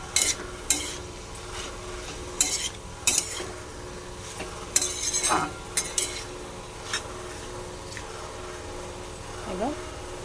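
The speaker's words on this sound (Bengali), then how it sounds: "নাড়িয়ে নেব।" Elephant-foot yam curry with freshly grated coconut being stirred in a pan, with scattered scraping and clinking spoon strokes over a faint sizzle, some strokes sharper and louder than others.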